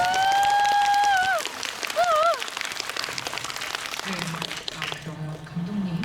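Scattered clapping from an audience at a film Q&A screening event for the Korean film Kingmaker, crisp and patter-like, under and after a voice speaking near the start.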